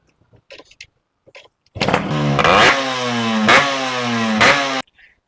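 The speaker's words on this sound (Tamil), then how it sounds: "இப்போ ஸ்டார்ட் பண்ணி காமிக்கிறேன் இந்த வண்டியோட சவுண்ட் எப்படி இருக்குன்னு பாருங்க" A restored Yamaha RX 135 five-speed two-stroke motorcycle starts after a few faint clicks, then idles loudly and close with a buzzy, crackling tone, blipped twice into sharp revs before cutting off abruptly.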